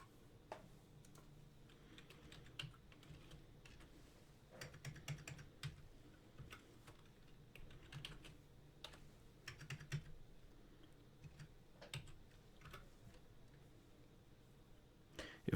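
Soft, irregular typing on a computer keyboard as sample barcodes are entered, a steady patter of light key clicks with brief pauses, close but quiet against faint room hum.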